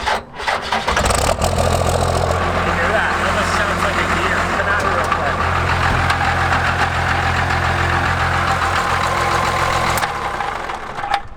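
A Cummins diesel engine with a failing power steering pump starts and runs steadily at close range, with a rattling, knocking whine throughout and voices talking over it.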